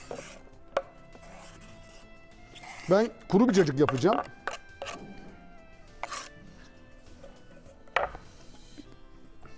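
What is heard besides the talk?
chopping cucumbers with a knife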